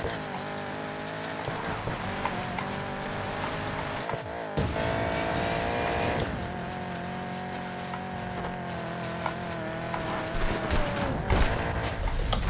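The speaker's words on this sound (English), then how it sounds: "We flipped the Mustang." A Ford Mustang in Need for Speed Payback roars continuously, with tire noise and a couple of heavy thuds and bangs partway through as the car flips over.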